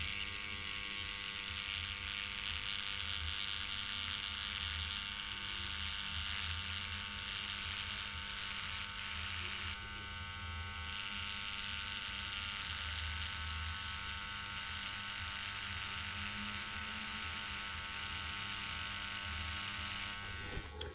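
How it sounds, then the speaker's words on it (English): A tattoo machine needle running at 7.5 volts and breaking human skin gives a continuous buzzing, rattling whir, close and steady for about twenty seconds, with a short lighter dip in the middle and no speech. "So you can hear that breaking of the skin"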